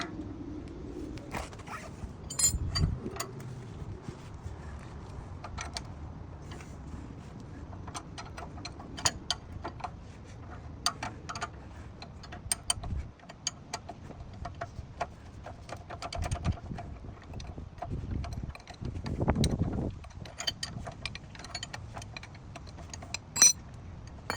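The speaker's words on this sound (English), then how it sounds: "Let's get our lower bolt out." Ratchet and wrench work on a Duramax truck's worn front suspension as a lower bolt is loosened and removed, producing steady close ticking and clicking with scattered metallic clinks and brief clunks, and no talking.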